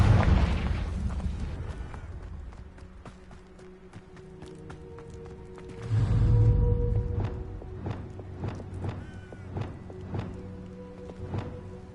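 A Confringo blasting spell bursts with a deep boom in Hogwarts Legacy, followed by scattered sharp impacts and footstep-like clatter over a low ambient drone.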